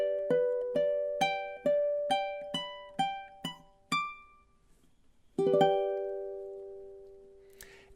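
A ukulele plays the ending sequence of The Office theme: eight or so plucked notes in a steady descending run, a short pause, then one final chord left to ring and fade, with no voices.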